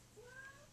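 A single short, quiet cat meow, rising and falling in pitch, heard alone.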